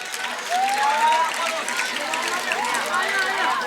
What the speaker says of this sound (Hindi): उनके लिए जोरदार तालियां बजनी ही चाहिए